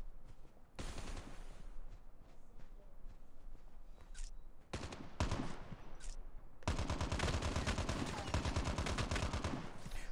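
Rapid automatic gunfire from the mobile shooter Call of Duty Mobile, in loud, dense bursts broken by short pauses, ending in a long sustained stream of shots.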